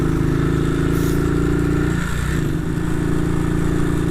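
A 1959 BSA motorcycle ridden in freezing -3°C weather gives a steady, loud engine drone that holds a constant pitch throughout, with a dip in the middle and wind rush over the top.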